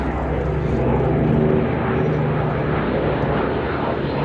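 Propeller drone of Boeing Stearman biplanes flying a wingwalking display, a loud, steady engine roar that swells slightly mid-way and holds without pause.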